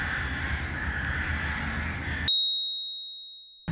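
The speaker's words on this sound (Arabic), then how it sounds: "هنالك معركة غربان بين الأشجار." Crows caw from the trees, with a harsh call in the distance over steady outdoor background noise, ending in an abrupt cut and a thin bell-like tone.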